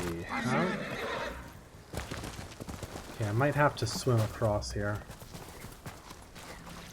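A horse in the video game Ghost of Tsushima whinnies in a rising, wavering call, with hoofbeats clopping across the ground, while someone talks before and after.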